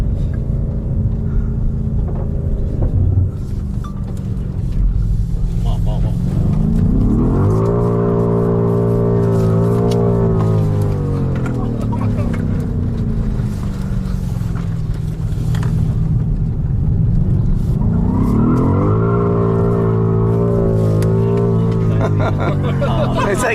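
A BMW M5 Competition in two-wheel-drive mode warms its tires before a launch, its engine revving in two long rising and falling surges with a deep rumble, close and loud, with faint voices in the background.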